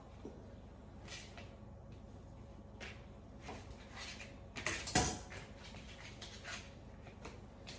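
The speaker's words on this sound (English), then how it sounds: "These larger pieces, I'm going to cut them in half" Larger vegetable pieces are cut in half with a knife in a home kitchen, giving faint, scattered taps and clicks against a board, with one sharper clatter partway through.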